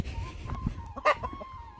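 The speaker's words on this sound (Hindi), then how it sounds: "ये मुर्गी अंदर से खा के आके अभी धूप सेक रहे हैं" A chicken gives a short, sharp cluck against quiet outdoor background noise, with soft scuffling around it.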